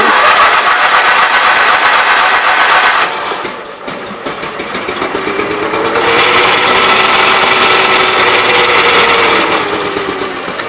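A Case 448 tractor engine running on both cylinders, a loud close steady chug that dips briefly and then rises again, with a mechanical whine sweeping in the middle.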